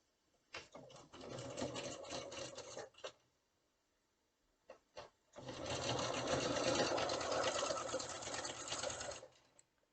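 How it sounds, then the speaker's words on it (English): Sewing machine stitching a flange onto a quilted pillow, a close steady mechanical whir in two runs, a short one followed by a longer one after a few isolated clicks. "we're going to sew it all the way down"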